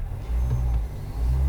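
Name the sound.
Ford Maverick gas engine revving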